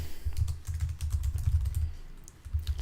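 Quick clicking keystrokes on a computer keyboard as a command is typed, a close, steady run of taps with a short pause near the end.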